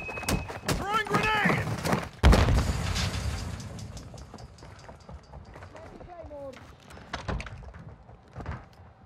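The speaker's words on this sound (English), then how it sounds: "Throwing grenade!" A grenade goes off in Call of Duty: Modern Warfare 2: a single heavy boom partway in, followed by scattered shots and debris, with a voice shouting at the start.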